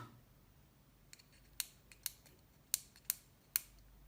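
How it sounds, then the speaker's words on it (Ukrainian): Relay inside a faulty Luxeon UPS-500WM uninterruptible power supply clicking as it fails to switch on: several sharp, close mechanical clicks at irregular intervals, with a few fainter ticks between, over a quiet background with no voices. "Релюшка клацнула і на тому все."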